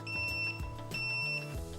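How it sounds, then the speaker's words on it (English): Raindrip digital water timer beeping to confirm programming selections, giving two clear electronic beep bursts, each a sustained high-pitched tone, loud and close with no talking. "When you confirm your programming selections, the timer will beep."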